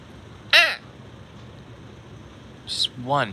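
Crows calling in Kesennuma, Tohoku, at a morning market: two short harsh calls, one early and another pair near the end, fairly close over a quiet outdoor background.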